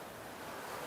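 A brief, faint wash of ocean surf at Padang Padang Beach in Bali, a steady hiss of breaking water with no voices.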